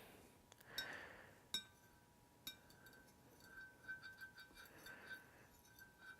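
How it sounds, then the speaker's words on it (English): A toothpick stirs oil in a glass dish with faint clinks and light scrapes against the glass, a few sharper taps among soft swirling, close up and quiet with no talk. "toothpick or popsicle stick or something to agitate the oil and stir it around a little bit"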